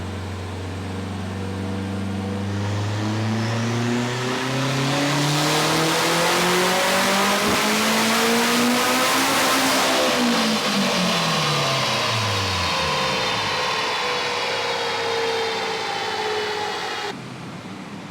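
A turbocharged 8th-generation Honda Civic on a dyno revs in one long, loud pull, its engine note climbing to a high-rpm peak near its limiter. It then winds down steadily and cuts off abruptly.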